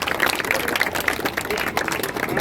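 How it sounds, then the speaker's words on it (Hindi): A Ramlila audience at a rehearsal claps loudly, a dense, steady patter of many hands that fills the whole moment without letting up. "जोरदार तालियों"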